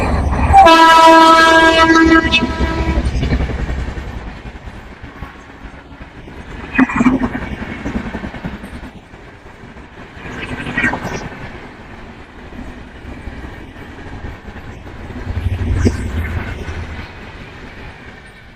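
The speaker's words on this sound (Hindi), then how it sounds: "पीछे ट्रेन आ रही है" A train passes along a railway track with a loud horn blast at first, then rumbling wagons and clickety-clack rising and falling at close range for many seconds.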